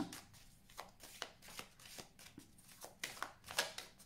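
A deck of tarot cards is handled and cut close by, a steady run of soft papery flicks and riffling taps, with no talking.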